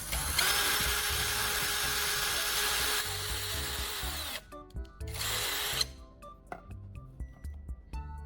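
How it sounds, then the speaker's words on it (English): A power drill whines through a plastic bottle cap in a long continuous burst, stops, runs again briefly, then gives way to small clicks and handling sounds. "I use a drill to make a large hole in the bottle cap"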